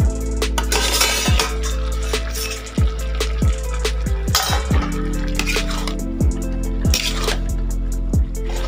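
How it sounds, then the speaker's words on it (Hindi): A lid comes off a pot of jackfruit curry in a kitchen, with repeated close metallic clinks and scrapes of cookware and utensils spread through the stretch, loud and sharp over a faint background hum. "चलिए दोस्तों ढक्कन हटा के हम देख लेते हैं।"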